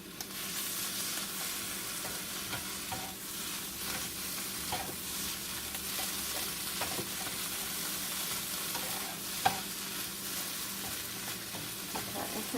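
Food scraped and stirred around a hot pan under a steady background sizzle, with soft intermittent scraping taps and one sharper knock near the end.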